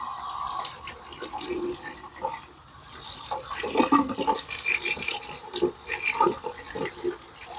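Tap water running and splashing into a sink as a 1985 Strawberry Shortcake Berry Princess doll's hair is washed during restoration, with irregular splashes, drips and fluctuating flow close up.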